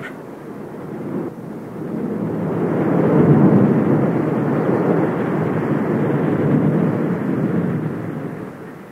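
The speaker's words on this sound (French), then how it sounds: "Dans la nuit, il fait un gros orage." Deep, rolling thunder from a heavy night-time thunderstorm swells slowly and lingers, a long continuous rumble with no voices.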